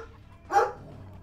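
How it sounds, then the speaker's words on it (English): An angry dog in the Earthworm Jim 3D video game lets out a single loud, sharp bark midway through, standing clearly above a low, steady game background. "There's a dog. He is angry, my friends. Angry like a stormy sea."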